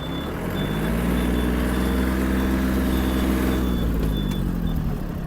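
A Yanmar AF-26 mini tractor engine idles in a steady, low, throbbing drone with an even rumble throughout, alone with no voices, and a faint high tone comes and goes.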